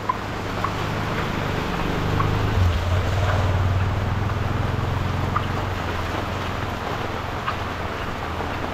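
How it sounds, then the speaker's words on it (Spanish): Heavy rain driven by gusting wind pounds a small community, a dense, steady roar of water and wind that holds at an even loudness throughout, with a low rumbling undertone and no voices. "la verdad que no se esperaba esta tremenda cantidad de agua, lluvia"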